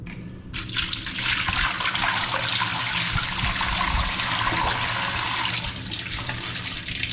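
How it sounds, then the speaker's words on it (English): Water poured into a pipe to rinse out packed sand gushes and splashes continuously, a loud, steady rushing flow after a brief quiet start, running out onto a floor with a drain. "So what I was going to do is throw some water in there and see if I can rinse it out."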